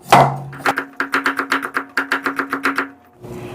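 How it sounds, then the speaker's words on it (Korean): A knife slicing carrot into thin julienne strips on a cutting board, about fifteen quick, evenly spaced chops in a steady rhythm, close and crisp, with no talking. "당근 색깔나게 한 다섯 쪽만 어, 얇게 썰어서 요것도 가늘게 채 썰어 줍니다"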